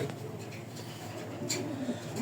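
Racing pigeons coo softly in a quiet space, with low, faint calls repeating in the background.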